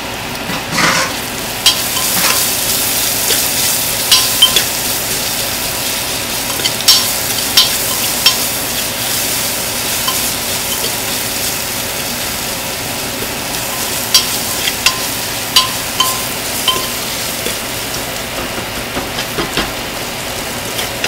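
Chopped garlic and onion fry loudly in a pan for egg biryani, a continuous hissing sizzle broken by repeated stirring scrapes and clicks, close up and without talk.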